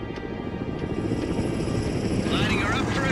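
An Apache attack helicopter flies in the World in Conflict war game, its steady rotor roar loud and continuous beneath radio voices talking over it.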